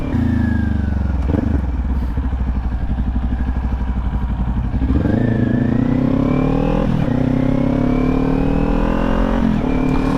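A Kawasaki Ninja 400 motorcycle engine runs loud and close throughout. It idles with a rough, steady rumble, then revs up in rising sweeps at about five seconds, again near seven seconds and near the end, and no one speaks.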